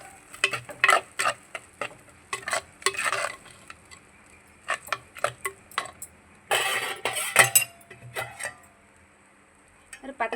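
Ground masala paste fries in oil for a neem-flower vathal kuzhambu while a spoon scrapes and clatters against the pan in irregular bursts, with a soft sizzle between strokes.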